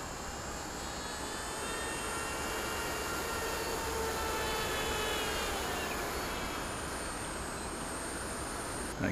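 A ZOHD Dart XL RC airplane making a high-speed pass: a steady, loud motor and propeller whine with rushing air that holds for several seconds and shifts slightly in pitch, with no voices.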